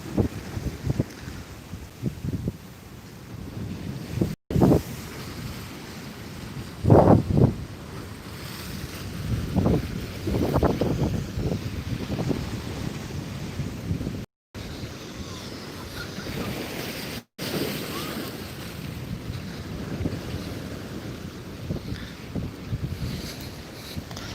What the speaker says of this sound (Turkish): Havada tatlı bir rüzgar var.